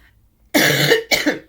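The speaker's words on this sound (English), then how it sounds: "Still have a bad cough." Two harsh, close coughs from a sick person with a sore throat, the first longer and rougher, the second shorter, heard alone in a quiet room.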